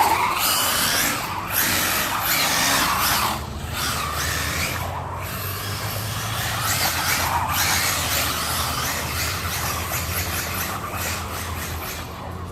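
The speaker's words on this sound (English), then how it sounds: "Have a look at your tyres, because you can hear them squealing." Tyres squealing on a Hobao Hyper 7 RC car running on 6s power: a loud, steady, broadband hiss that holds for the whole stretch, with no voices over it.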